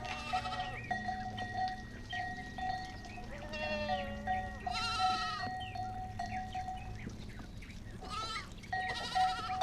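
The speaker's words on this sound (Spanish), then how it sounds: "un grupo de ovejas de cara negra que caminaba vacilante cuesta abajo por el páramo" A flock of black-faced sheep on an open moor bleat repeatedly, several wavering calls of varying pitch from different animals, fairly close, over a soft outdoor background with no talking.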